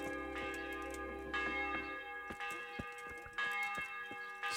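A church bell tolls repeatedly in a town in Kingdom Come: Deliverance, with clear metallic strikes about once per second and a ringing decay between them.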